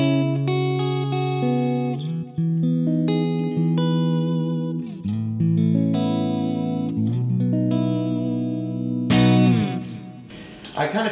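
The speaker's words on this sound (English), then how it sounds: "I kind of just have my delay and reverb on" Clean electric guitar played through a Kemper profiler with delay and reverb, sustained chords and single notes ringing out with echoing repeats and a lush spacious tail, moderately loud and with no talking.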